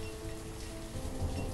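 Steady rain falls in the village-building game Banished, a soft continuous wash of drops with low rumbling underneath, moderately loud and unbroken throughout.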